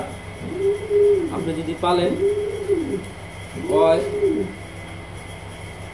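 A pigeon coos nearby in two rolling, looping phrases, heard under someone talking.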